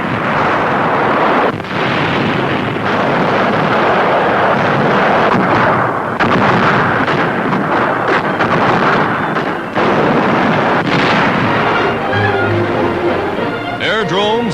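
Wartime artillery bombardment of the island stronghold of Pantelleria in the Mediterranean in 1943, a dense, continuous rumble of heavy fire and blasts that stays loud throughout, with a narrator speaking over it.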